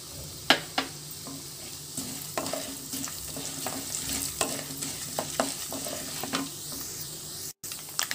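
Chana dal, urad dal, mustard seeds and cumin fry in hot oil for temple-style mango pulihora, giving a continuous moderate sizzle broken by frequent sharp pops and stirring scrapes.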